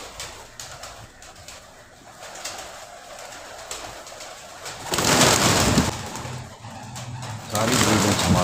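Sialkoti pigeons coo in soft, repeated low murmurs, joined by louder fluttering and rustling bursts near the end, with someone talking over them.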